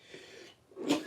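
A single short sneeze bursts out near the end, close and fairly loud, after a quiet, breathy lead-in.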